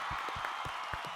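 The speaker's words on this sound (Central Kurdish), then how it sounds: "بە چەپڵەیەک هەموو بۆ کاک عشیر" Studio audience applause at a Kurdish TV talent show, a short burst of dense rhythmic clapping heard at a moderate distance.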